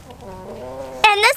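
A homestead chicken gives a low, drawn-out vocal tone, then a sudden louder burst of sharp clucking squawks near the end, close to the listener.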